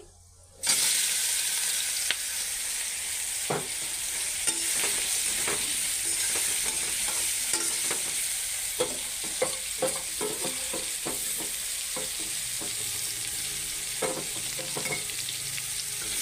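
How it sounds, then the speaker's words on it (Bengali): Soybean chunks hit hot oil already seasoned with panch phoron, setting off a sudden loud, steady sizzle that runs continuously, dotted with sharp clicks and pops and the scrape of stirring. "তেল গরম হয়ে গেছে, এবার আমি দিলাম সয়াবিন"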